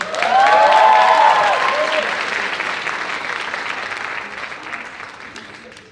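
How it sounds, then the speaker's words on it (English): An audience at the Filipino Americans at Madison 3rd Annual Culture Show breaks into applause, loudest at the start with a few whoops, then gradually fading. "one more big round of applause for them"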